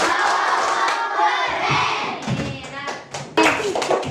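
Classroom of children doing the 'tepuk wow' clap chant, a teacher's voice and group chanting with sharp hand claps, near and lively, ending in a burst of claps and cheers.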